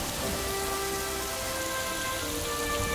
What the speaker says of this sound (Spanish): O sea, hay lluvia, se pone niebla.